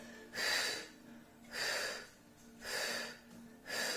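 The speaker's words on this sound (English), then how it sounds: "So your breathing should sound like this." Pilates breathing demonstration, four rhythmic breathy pulses about a second apart: steady, airy exhalations close to the mic with short quiet gaps between, no talk.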